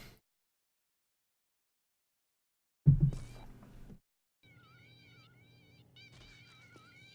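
A cat in the Postal 2 video game lets out a sudden loud yowl after near silence, followed by a fainter, wavering, tonal cry in the game's quiet sound mix.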